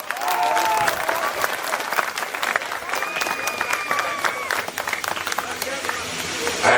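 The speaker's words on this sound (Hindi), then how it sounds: "थोड़ी और, अच्छा थोड़ी और तो ताली बजा दो।" Audience applause at a Hindi kavi sammelan poetry recital, a sustained, dense burst of clapping from a large crowd filling the whole stretch, with a few voices and whistles mixed in.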